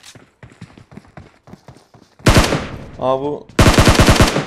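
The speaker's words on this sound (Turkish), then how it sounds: "şu karşıda birileri ateş ediyor birbirine" Gunfire in the PUBG Mobile battle game as players shoot at each other: soft distant shot bursts at first, then loud close rapid automatic fire in two long bursts, with brief voice sounds in between.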